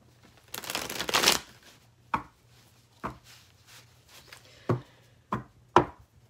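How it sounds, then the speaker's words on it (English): A deck of tarot cards is riffled in one loud burst, followed by a series of separate sharp taps as the cards are squared or placed, close up with no talk. "Shuffle the deck."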